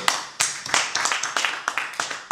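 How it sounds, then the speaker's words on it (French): Audience applause at a press conference: a run of sharp, sparse clapping bursts, fairly close and irregular, with no one speaking over it. "je vous demande encore une fois d'applaudir s'il vous plaît"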